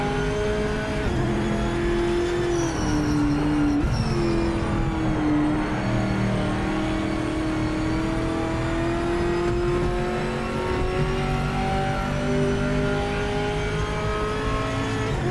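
A GT race car engine in the Project Motor Racing game revs and climbs through the gears near Eau Rouge at Spa, a loud, sustained whine that rises, dips on shifts and builds again.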